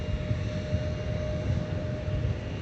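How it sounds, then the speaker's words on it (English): An Airbus A321neo taxiing at MSP airport gives a steady, moderately loud engine drone with a thin constant whine riding on top, heard from a distance with no talking. "got our 321 Neo that is taxiing"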